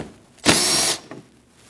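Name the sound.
power tool removing 8mm bolts in Jeep Cherokee wheel well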